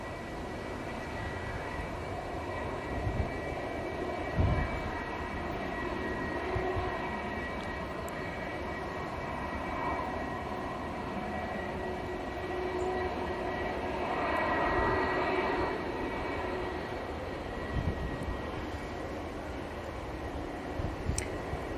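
TUI Boeing 787 Dreamliner at Manchester Airport, bound for Montego Bay; a faint, steady distant engine drone with a soft swell midway and a few scattered knocks.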